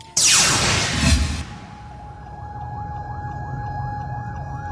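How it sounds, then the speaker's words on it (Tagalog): Fire truck sirens wail as trucks arrive at a residential fire in Sitio Univille, Barangay Kasambagan, Cebu City, with a loud burst of noise up front, then a steady siren tone and a more distant wailing siren. "Sunod-sunod ang pagpangabot sa mga fire truck gikan sa nagkadiyang mga fire station"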